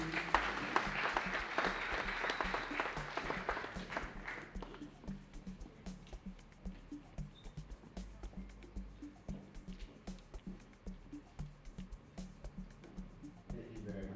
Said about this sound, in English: Please give him a hand of applause, please.